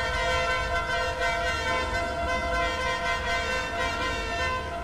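A horn blasts continuously on a fairground ride, with party music, a steady loud multi-tone honk held without a break over a pounding low beat.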